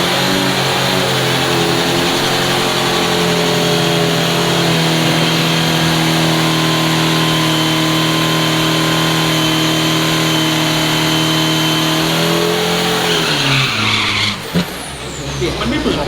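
A loud, continuous Isuzu Pro 3000 class race car engine drones at high revs at a racing event, its pitch dropping near the end as it passes; crowd or commentary noise blends underneath.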